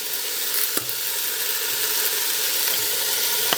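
Vegetarian chili with peppers sizzles and crackles steadily in a hot pan while being stirred, with a couple of sharp utensil scrapes and knocks standing out above the fry.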